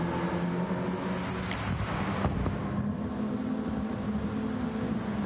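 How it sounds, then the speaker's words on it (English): Heavy rain in a racing video game hisses steadily and evenly throughout, blended with a low, continuous engine drone and a few faint clicks. "the rain appears to be easing off ever so slightly"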